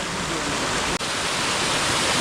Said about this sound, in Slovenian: pod tale super umeten slap